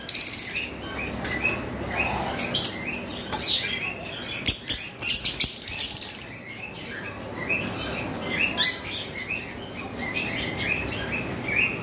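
A pair of pet birds, apparently small caged finches or similar for sale, chirps and tweets in scattered short bursts throughout, moderately near, with faint rustling and mechanical background noise and no talk.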